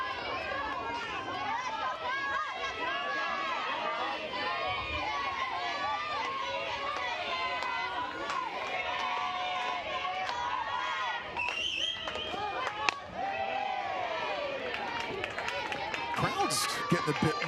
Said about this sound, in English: Crowd's getting a bit more into it